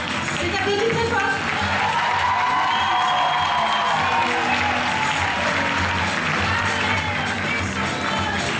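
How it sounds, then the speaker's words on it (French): Loud, sustained applause and cheering from a crowd at a Miss Ronde Poitou-Charentes pageant, honouring the jury, steady throughout with a dense wash of clapping and voices. "Donc on applaudit très très fort le jury."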